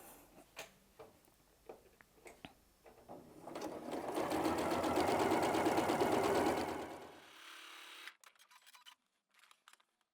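A sewing machine stitches quilting lines on a small quilted mug rug, starting with a few clicks, then running in a steady whirring burst for several seconds before stopping, followed by faint handling taps.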